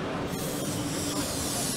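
A can of spray adhesive in a small paint booth at a model-building fair hisses steadily and loudly without a break, a close continuous spray with no talking.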